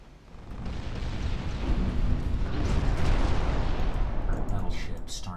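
Warship naval gunfire in Ultimate Admiral Dreadnoughts: a dense, sustained rumble of heavy cannon salvos and booming blasts building into one continuous roar, with a voice faintly beneath.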